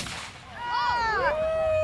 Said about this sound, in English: Some more fireworks going on.